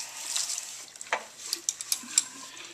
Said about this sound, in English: I'm going to stir my solution A.